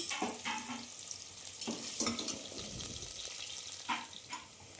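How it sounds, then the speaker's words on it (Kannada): Chopped onion sizzles in oil inside a pressure cooker. Repeated scraping stirs break through the steady, close frying hiss. "ಒಂದು ಕುಕ್ಕರ್ಗೆ ಎಣ್ಣೆ ಒಂದು ದೊಡ್ಡ ಈರುಳ್ಳಿ ತೊಗೊಂಡಿದ್ದೀನಿ ನಾನು ಸಣ್ಣದಾಗಿ ಹಚ್ಕೊಂಡಿದ್ದೀನಿ ಇದು ಗೋಲ್ಡನ್ ಬ್ರೌನ್ ಆಗೋ ತನಕ ಹುರ್ಕೋಬೇಕು"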